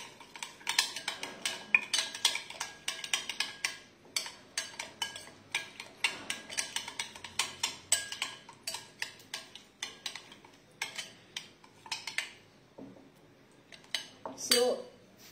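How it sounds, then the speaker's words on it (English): Metal spoon mixing paneer with spices in a bowl, a brisk repeated clinking and scraping against the dish, close and steady throughout, with no one talking. "Now mix it well."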